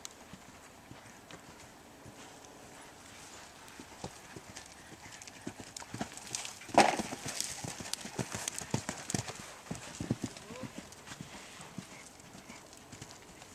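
Horse hooves clip-clop steadily through a jumping lesson in an arena, growing louder and busier midway as the horse passes close, with faint coaching voices in the background.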